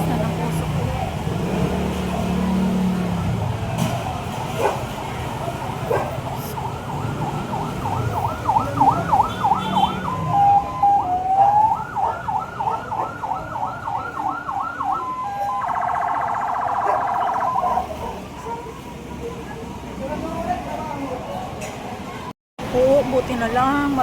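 Fire truck sirens wail in rising and falling cycles as firefighters arrive at a fire, loud and fairly close, with an air horn blast and agitated voices talking throughout.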